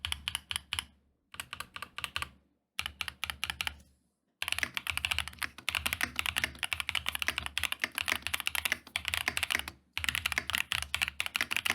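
Fast, close typing on an EPOMAKER TH80 SE mechanical keyboard: dense bursts of clacky keystrokes broken by a few short pauses, with no voices.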